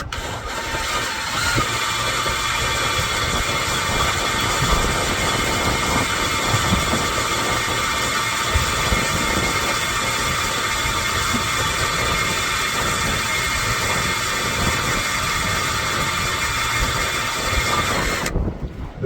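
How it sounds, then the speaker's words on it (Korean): A drill bores a hole through 12 mm thick metal lubricated with cutting oil, a loud, steady grinding whir with a rough low rumble that runs almost without pause before cutting off near the end. "일단 이게 하나 구멍을 내보겠습니다"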